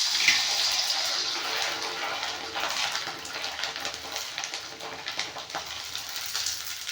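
Rice kurudige fryums frying in hot oil, a steady dense sizzle and crackle that holds evenly throughout, close and continuous with no talk.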